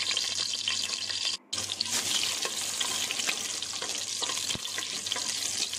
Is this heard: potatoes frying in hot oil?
yes